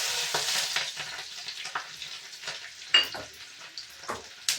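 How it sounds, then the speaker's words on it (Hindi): Cumin, asafoetida and chopped onion sizzling in hot oil, a steady crackling fry with bursts of louder spitting and occasional stirring scrapes, close and without speech. "और अब मैं डालूंगी इसमें जीरा, और डालूंगी हींग, और इसके बाद ये डालूंगी मैं इसमें प्याज"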